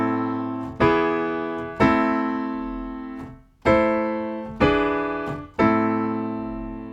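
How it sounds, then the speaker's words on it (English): A pair of chords, tonic to dominant in a minor key, alternates across six strikes, each one struck firmly and left to ring and fade before the next, evenly paced and alone without talk. "we end up with a pair of chords that sounds like this"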